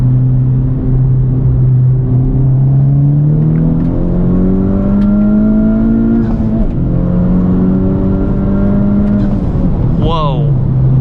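A turbocharged 2021 Honda Civic Type R with a Stage 2 tune revs up hard at full throttle through rising gears, the pitch climbing, dropping at each shift and climbing again, loud and close, ending with a brief high whine.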